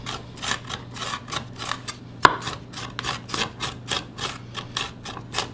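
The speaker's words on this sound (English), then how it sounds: "I'm actually gonna chop these a little finer, more minced. We'll use this rocking blade for them too." Onions minced on a cutting board with a rocking blade, giving a steady run of quick, crisp chopping knocks close to the microphone, with one louder clack partway through.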